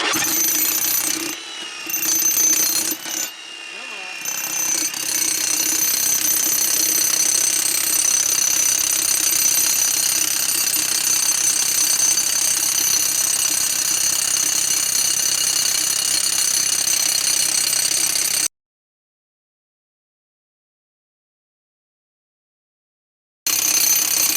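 A freshly sharpened chisel hammers continuously at mine timbering, a loud, harsh, rapid pounding that runs unbroken for most of the clip after a couple of short stutters at the start, then cuts off abruptly.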